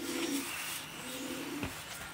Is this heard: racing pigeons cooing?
yes